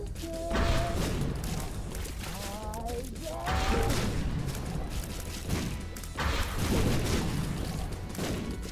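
Repeated bomb blasts boom and thud in The Binding of Isaac, with dense crashes and impacts packed across a busy fight, several heavier bursts standing out, beneath brief talk and game tones.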